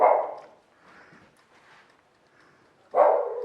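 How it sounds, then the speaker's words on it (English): A dog gives a sharp, close bark, then after a stretch of faint, muffled background noise a second bark rings out, loud and near. "which will make the dogs bark like buggery"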